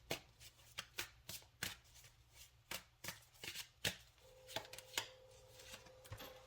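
Tarot cards are shuffled in a quick series of crisp, papery riffles and snaps, fairly close and alone, during a lunar eclipse reading.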